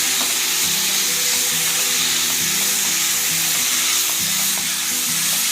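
Boneless chicken for Kerala-style chicken thoran stir-frying in a pan, a loud, dense, continuous sizzle with faint stirring scrapes underneath, close up and without speech.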